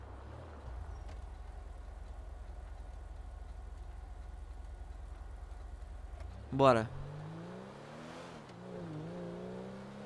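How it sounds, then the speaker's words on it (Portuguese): Car engine in a zombie apocalypse video game, a steady low idle rumble for several seconds, then a sharp rising rev as the car pulls away, settling into a lower drone with a voice speaking briefly. "Vou pegar esse carro aqui, que esse carro tem muito mais potência"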